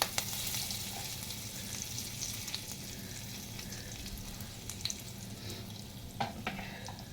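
Curry leaves sizzle in hot oil in a pan as a tempering for paneer bhurji, giving a steady, close frying hiss with faint crackles and small pops throughout, and no talking.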